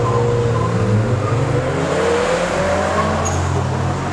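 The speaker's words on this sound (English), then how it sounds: "Front engine, front wheel drive versus mid-engine rear wheel drive launch." A Toyota MR2 with a mid-mounted engine and rear-wheel drive launches against a front-engine, front-wheel-drive SRT4. Loud, close engine roar climbs in pitch as the cars accelerate hard, with tire noise and a steady low rumble underneath.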